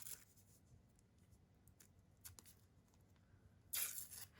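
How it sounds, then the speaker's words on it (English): Paper torn by hand in a quiet room: faint scattered rustles and small rips, then one louder, sharper tear near the end, with no talking. "we're just going to tear off a piece and try not to crumple it too much, and just tear"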